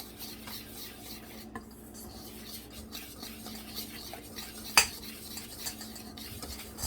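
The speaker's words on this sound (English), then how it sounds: "So I'm going to mix all these together." Dry ingredients for buttermilk biscuits, flour with baking soda, get stirred together in a bowl, giving a steady soft scraping and rubbing with one brief clink of utensil against the bowl.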